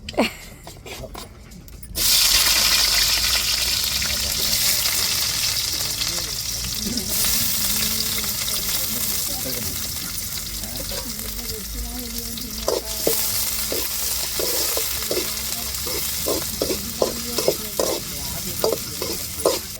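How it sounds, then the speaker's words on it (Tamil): Mustard seeds tip into hot oil for beetroot rice, and after a short clatter a loud, continuous sizzle takes over, with a run of sharp popping crackles near the end. "இப்போ பீட்ரூட்டுக்கு ஆயில் ஊற்றியாச்சு இப்போ கடுகு சேர்த்துருவோம்"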